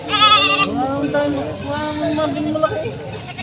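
Several goats bleat in overlapping, wavering cries, loud and close, with a steady murmur of background noise underneath, at a goat market in Padre Garcia, Batangas.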